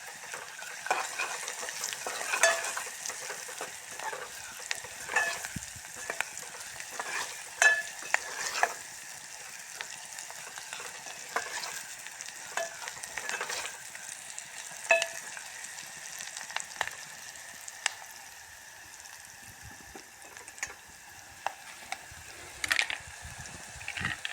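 Steady sizzling of onions frying in hot oil, with intermittent scraping and stirring clatter throughout; no voices.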